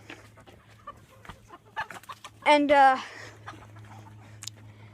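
Chickens, a pair of feisty brothers kept apart from the flock, cluck in short bursts with a louder squawking call near the middle, close by over a steady low hum while someone talks.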